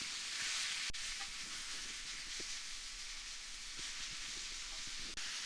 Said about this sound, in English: that's meat just hit the griddle and it's got that lovely sizzle.